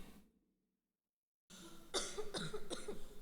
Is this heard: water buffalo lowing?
no